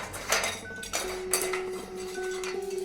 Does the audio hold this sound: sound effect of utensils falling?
yes